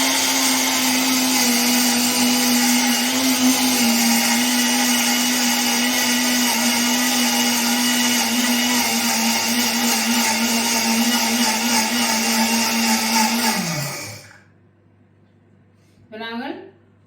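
A small electric mini mill grinds soaked urad dal with a loud, steady motor whine and churning rattle, then winds down and stops abruptly near the end, followed by a brief clatter.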